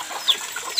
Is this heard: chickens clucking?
yes